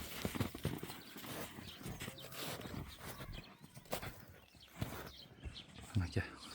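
A farmer's horse walks out of a yard, its hooves clopping in an uneven rhythm at close to moderate distance. Voices talk over the hoofbeats and birds chirp faintly in the background.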